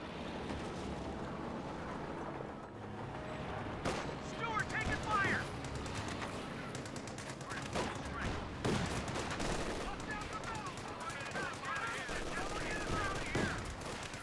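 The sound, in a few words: gunfire in Company of Heroes 2 video game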